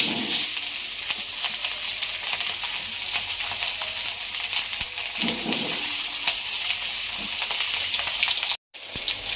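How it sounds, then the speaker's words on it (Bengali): Potatoes frying in hot oil give a steady, dense sizzle with a brief drop to silence near the end. "অল্প একটু তেল দেবো এই তেলে তেলে দেবো আলু"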